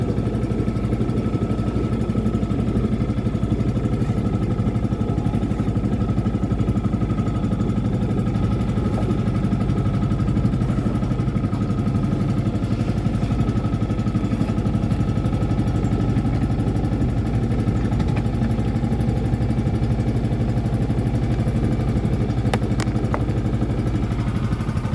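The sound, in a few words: boat engine running during a test ride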